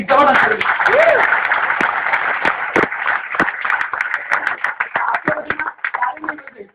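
An audience in Mumbai claps, with sparse sharp individual claps scattered through a busy mix while a person speaks over them, the clapping thinning toward the end.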